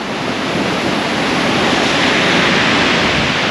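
Strong river current rushing past a dam where people fish with nets, a steady, loud broadband roar of flowing water that holds constant throughout with no voices.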